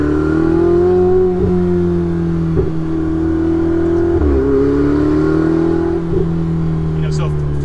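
Ferrari 488 Spider engine heard from inside the cabin with a window open on a mountain drive, a loud, close, steady drone that swells and eases in several gentle revs.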